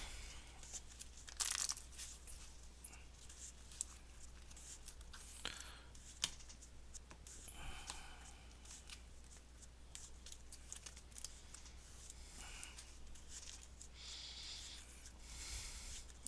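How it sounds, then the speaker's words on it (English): Playing cards being shuffled for a Harry Potter Defense Against the Dark Arts duel card game, heard as quiet, intermittent papery riffles and crinkly flicks with a few sharper snaps, without any talk. "shuffle, shuffle, shuffle"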